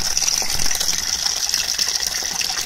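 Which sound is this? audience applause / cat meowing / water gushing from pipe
water gushing from pipe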